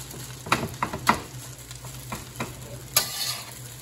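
BBQ chicken fried rice with oyster sauce stir-fried in a pan over heat: a low, steady sizzle broken by several sharp spatula scrapes and clacks against the metal, close and clear, with no talking.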